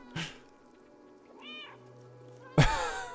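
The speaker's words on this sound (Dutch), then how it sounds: "Druk om B om te miauwen." A cat character in the video game Stray gives a couple of short meows, with a brief thump at the start and a louder, brighter meow near the end over a quiet game background.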